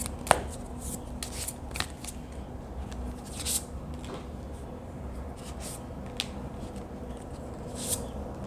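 Tarot cards being shuffled by hand, soft continuous riffling with occasional sharper snaps and taps of the deck, close and steady over a low background hum.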